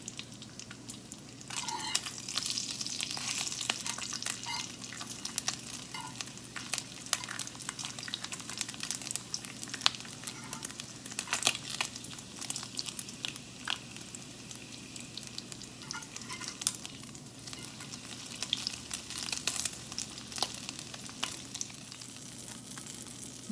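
Bacon fries on a griddle, cooked a little burnt, giving a continuous crackling sizzle with scattered pops and spatters, close and steady throughout with no talking.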